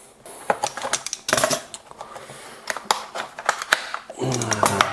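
Packaging of a Satechi charger with an aluminium body being opened by hand: irregular crinkling, clicking and rustling close up, with a person talking at the end.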